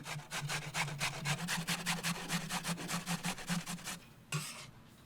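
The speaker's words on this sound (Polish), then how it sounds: "Zetrzyj na dużej tarce." Rapid, rhythmic scraping of carrot being grated on a coarse grater, about twenty quick strokes, close up, then a pause and one final stroke.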